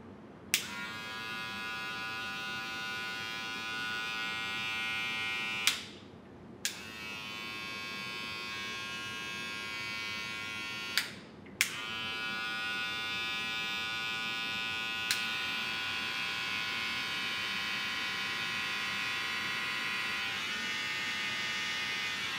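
An electric hair clipper buzzes steadily at close range, switched off and on a few times with brief gaps of silence between runs.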